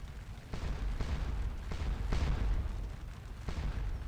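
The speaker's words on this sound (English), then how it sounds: "The artillery's doing okay" Artillery fire in Scourge of War: Waterloo, a Napoleonic battle game: a steady series of five or six muffled distant cannon booms spaced roughly half a second to a second apart over a low, continuous battlefield rumble.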